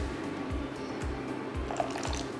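Pasta cooking water being poured or ladled in a kitchen while making cacio e uova, with a soft liquid trickle and regular low squishy pulses repeating about twice a second.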